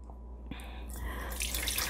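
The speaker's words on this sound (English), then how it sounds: "I'm going to pour that right back into its slow cooker" Dye liquid poured back into a ceramic slow cooker pot, a steady trickling and splashing stream that builds and grows brighter toward the end, heard alone at close range.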